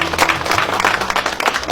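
Mourners clap in a dense, steady burst of applause to send off an elderly woman at a village funeral farewell, loud and close throughout.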